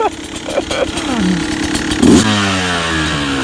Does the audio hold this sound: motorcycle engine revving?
yes